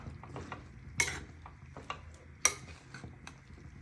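Fresh spinach is stirred with masala in a pan, giving faint scraping and soft stirring sounds with a low background sizzle and a couple of sharp clinks of a utensil against the pan.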